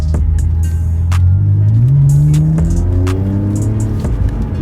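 A BMW X3 E83 3.0i with N52 engine and sports exhaust revs up loudly with a deep, throaty exhaust rumble, pitch climbing then settling back, close by.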